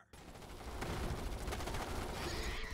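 Soldiers open fire together in the Starship Troopers: Terran Command video game, a dense, continuous volley of gunfire that starts abruptly and holds loud for the rest of the moment.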